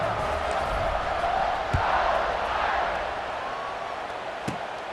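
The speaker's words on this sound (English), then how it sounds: "this crowd is buzzing after that last score" Stadium crowd in the College Football 26 video game, Michigan at Notre Dame, keeps up a steady loud roar before a kickoff, with a couple of brief thumps standing out from the continuous buzz.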